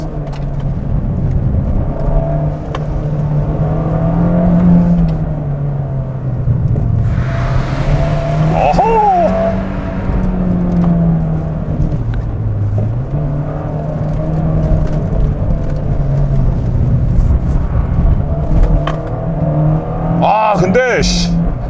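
The small 1.4-litre engine of a Fiat 124 Spider with manual transmission hums and drones steadily from inside the car on a wet road, its pitch rising and falling with speed, while a person talks over it.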